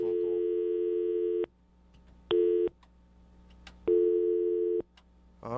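Telephone busy signal from an incoming call, a clean electronic tone repeating in long even bursts separated by short silences, fairly quiet and heard alone with no talking.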